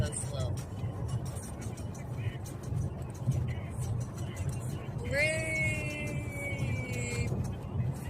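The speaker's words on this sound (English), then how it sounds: "look how fast we're coming up on this truck" A car on a road closes in on and overtakes a slow-moving truck, with steady rumbling road and engine noise throughout and a rising tonal engine whine joining in partway through.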